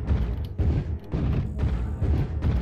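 LRM missile explosions from a heavily armed Stalker mech in MechWarrior Online, Polar Highlands skirmish: a rapid barrage of loud, booming thumps rolling in back-to-back waves.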